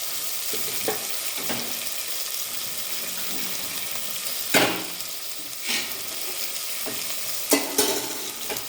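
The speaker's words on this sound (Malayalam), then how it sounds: "വെണ്ടക്ക ഒന്ന് ഇളക്കി കൊടുത്തിട്ടേ ഉള്ളൂ" Okra stirred in a hot pan for a buttermilk curry, with a steady frying sizzle under repeated scraping strokes of a spoon, a few louder clanks standing out; no talking.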